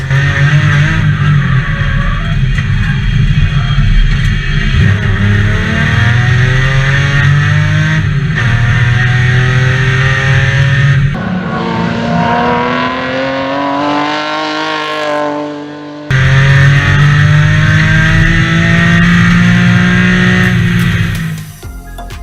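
A BMW E30 race car with a 3.2-litre inline six-cylinder engine revs hard and climbs through the gears to a 7,600 RPM peak, loud and close, with sustained high-pitched howling and brief drops between pulls.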